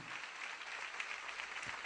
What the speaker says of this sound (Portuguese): Vamos aplaudir novamente esse Deus maravilhoso.